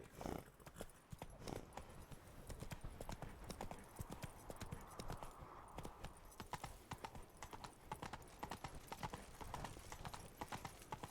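Roach, the horse in The Witcher 3 video game, clip-clops along at a steady walking rhythm, the hoofbeats close and distinct over a continuous bed of ambient game sound.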